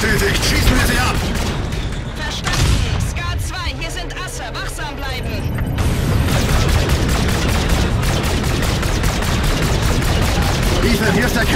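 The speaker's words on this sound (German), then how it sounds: "Schießen wir sie ab!" Sustained rapid gunfire and weapon bursts in the Call of Duty Infinite Warfare single-player campaign, dense and continuous, with voices talking over the shooting.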